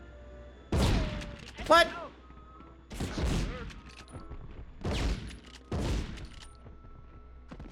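Gunfire in the Medal of Honor video game comes as several loud, separate bursts of shots, each followed by a gap, with a player's brief voice heard between them.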